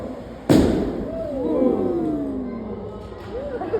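A lit chemical balloon bursts with a single sharp, loud bang, followed by a lingering roar and whooshing tones as it fades.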